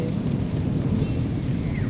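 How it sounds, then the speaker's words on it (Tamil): Steady rain with a low rumbling wash of thunder during the rainy season in Odisha, India, a continuous broadband roar with no voices. "இங்கே பாருங்கள் மழை சமயமாக போகுது"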